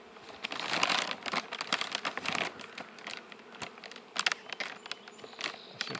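Honeybees hum and buzz around an open hive during a Formic Pro varroa mite treatment, a close, restless drone with crinkling, scraping handling noises mixed in.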